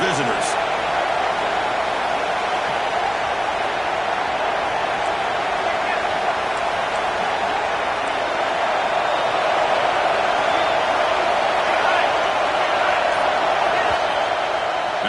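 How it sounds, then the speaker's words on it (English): Steady, dense roar of a stadium crowd at an LSU versus Georgia college football game, a constant wash of cheering and noise that holds without pause from start to finish. "Listen to the crowd energy here in the early going."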